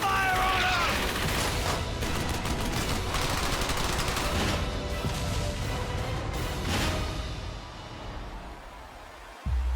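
Sustained automatic gunfire and rapid shooting in the PS3 video game QORE, loud and continuous with bursts overlapping dense battle noise, tapering near the end before a final sharp impact.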